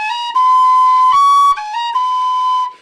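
A Weston pistachio wood tin whistle plays a clear, bright melody of several sustained notes with small pitch steps, loud and close with no other sound.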